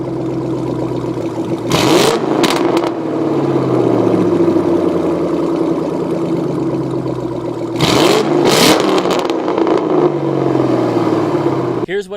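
A 2005-09 Ford Mustang V8 with axle-back exhaust and an off-road H-pipe, close and loud: a steady burbling idle broken by two sharp revs that climb and fall back, one early and one later.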